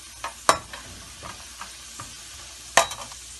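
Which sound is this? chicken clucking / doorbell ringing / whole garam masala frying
whole garam masala frying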